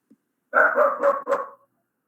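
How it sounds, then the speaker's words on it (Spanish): A dog barks in a short burst of about four quick, close, fairly loud yaps run together, with a tiny click just before and no voices. "Hay una competencia de un ladrido."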